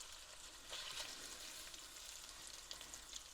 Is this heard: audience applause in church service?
no